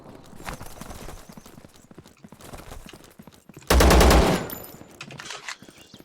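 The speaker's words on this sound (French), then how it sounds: "C'est super son fusil à pompe." Shotgun blasts in the survival shooter video game Zero Sievert, with a loud, dense burst of close gunfire around the middle, surrounded by quieter scattered game sounds and brief clatter.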